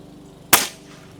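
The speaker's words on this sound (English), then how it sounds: "let me shoot three through the crony" A Pinty Timber Classic PCP air rifle fires a single sharp, loud shot that cracks close by and then fades quickly into a short tail.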